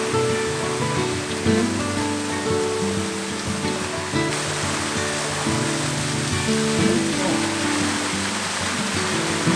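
Waterfall at a cave campsite, a constant rushing roar of falling water that holds steady throughout.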